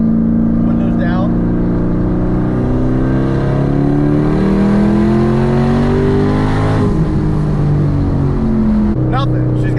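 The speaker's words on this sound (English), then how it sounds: "The downshifts just sound that much better with those exhaust valves open" A Chevrolet Camaro with its exhaust valves open pulls hard onto a highway with the windows down, a loud, close engine drone rising and falling through gear changes while people talk over it.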